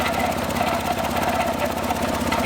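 A Datsun 280ZX engine, neglected for 15 years and now repaired, runs steadily at a close, loud, even idle with a faint knocking pulse and no talk.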